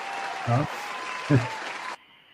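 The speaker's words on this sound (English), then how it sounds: "I forgot to give y'all a round of applause for coming up here" Applause from a small audience greeting a panel guest on a boxing talk show, a steady wash of clapping with two short voiced bursts over it, ending abruptly and dropping to quiet room tone.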